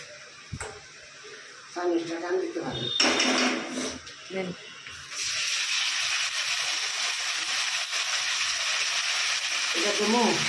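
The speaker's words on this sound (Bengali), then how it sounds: "একটু জিরে ফোড়ন দিয়েছি তেজপাতা দিয়ে একটু পেঁয়াজ দিয়ে ভালো করে ভেজে নিচ্ছি" Onions fry in oil with cumin seeds and bay leaf, giving a steady, fairly loud sizzling hiss through the second half, after people talk nearby at the start.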